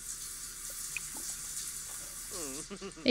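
A shower runs steadily in The Sims 4, a continuous hissing spray of water. Voiced game chatter joins near the end.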